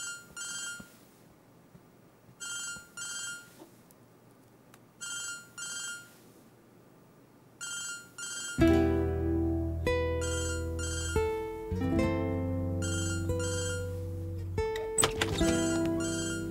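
A telephone rings in regular repeated bursts, clear but moderate in level, first alone in a quiet room and then continuing under loud music that enters midway.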